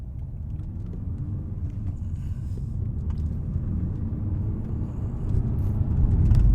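An Audi A4 2.0 TDI turbo diesel engine drones low and steady from inside the cabin, the rumble swelling louder toward the end as the car accelerates.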